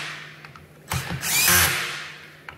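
A power drill with its clutch set low runs on the bolts of a Jeep Wrangler transfer case: a few faint clicks, then a close whirring burst that swells and fades over about a second.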